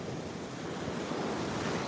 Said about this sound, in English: the ocean is amazing today